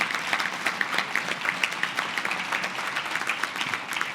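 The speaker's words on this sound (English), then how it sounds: "we should give them a round of applause" A convention audience breaks into steady applause, many hands clapping together for several seconds at a lively, even intensity.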